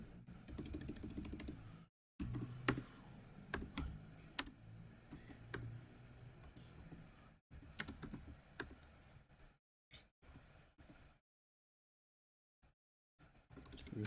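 Keys clatter on a computer keyboard as Cisco router commands are typed, in bursts of clicks separated by short pauses and brief silences, close and moderately quiet.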